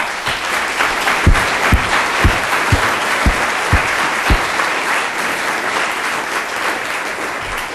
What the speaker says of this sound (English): one more applause for this scientist